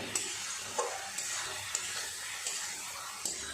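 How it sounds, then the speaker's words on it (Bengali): Fried potatoes and spices being stir-fried in a pan for an egg curry: a continuous hiss with periodic light scrapes of a spatula about every half second to second, fairly quiet and close. "আলুর সাথে মশলাগুলো আর একটু কষিয়ে নিয়ে তারপর জল দেব।"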